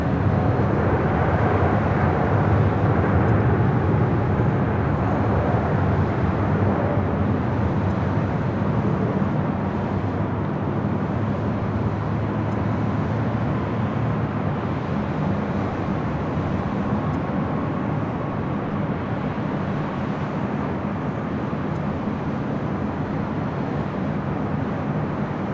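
An airliner taking off from runway 25 right at LAX, a loud sustained low roar of jet engines that stays broad and steady throughout, easing off only slightly toward the end.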